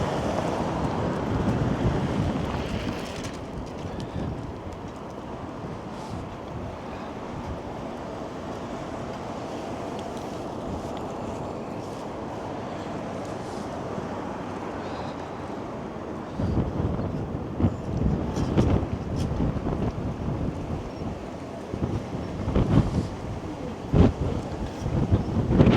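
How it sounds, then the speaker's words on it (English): Strong wind roars into the microphone on a snowy Toronto street walk, a loud continuous buffeting that dips slightly midway and then surges with heavier gusts, with no talking. "I don't know how much of the wind sound is being picked up by my mic."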